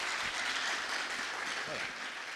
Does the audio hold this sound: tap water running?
no